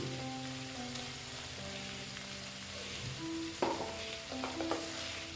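Bitter gourd and pumpkin stirred in a frying pan, a steady close sizzle with scraping spatula strokes and clinks toward the end, and no voices over it.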